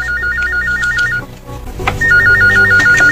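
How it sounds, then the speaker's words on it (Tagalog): An old-style telephone bell rings in a repeating electronic trill, two loud bursts separated by a brief pause with some background sound between them, in a radio drama. "Ang telepono, mi bagting."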